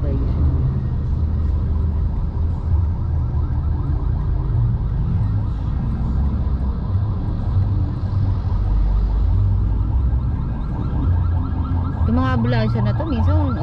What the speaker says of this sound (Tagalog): Ambulansya na to, minsan OA din eh.